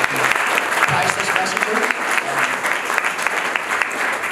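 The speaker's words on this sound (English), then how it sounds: "I just want to give another round of applause and say thank you to everyone" Sustained applause from a crowd at a football club event, loud and dense throughout with no break, filling the whole stretch.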